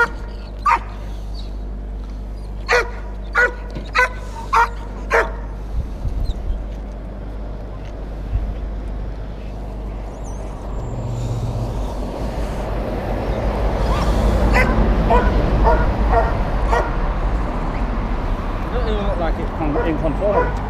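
A dog barks in a string of sharp, evenly spaced yaps, then gives way to whimpering and whining while people talk over a low, constant background rumble.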